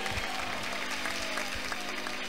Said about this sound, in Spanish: Denle un aplauso porque Él vive.